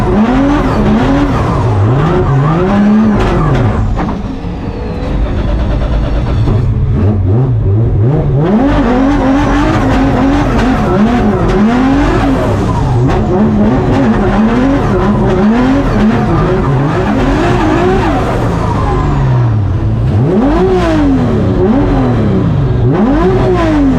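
Formula Drift race car with nitrous drifting at Atlanta, its engine loud and close, revving and bouncing off the limiter in repeated swells while the tires squeal continuously for the whole stretch.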